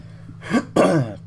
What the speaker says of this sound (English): I still got a bit of a chesty cough